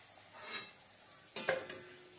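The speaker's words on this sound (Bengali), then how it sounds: "একটা লুচি ভাজা হয়ে গেছে, আর একটা লুচি ছেড়ে দিল" Whole-wheat luchi puffs in hot oil with a faint, steady sizzle, broken by a few soft crackles and pops as fresh dough slides into the pan.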